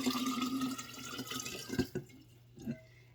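Half a gallon of water poured into a sterilized jar for water-glassing eggs, a steady close pour that breaks into a few splashes and drips as it ends.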